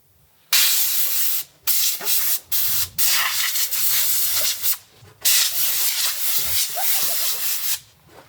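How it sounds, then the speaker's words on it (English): Compressed air bursts loudly from a compressor nozzle, blowing out the hidden air suspension intake filter of a Land Rover Discovery 4, in several long hissing blasts separated by short pauses, close and with no talking. "with a compressor you can blow it out and I think it will look clean again"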